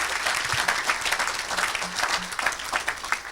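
A church congregation clapping together during a service, a steady patter of many hands at moderate distance, lasting the whole stretch with a faint voice or two underneath.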